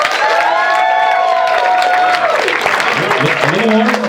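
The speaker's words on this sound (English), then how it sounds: "Level 7 applause." Loud studio audience at an improv comedy show breaks into sustained applause with cheering and whooping voices on cue, a dense continuous roar that holds steady before tailing off.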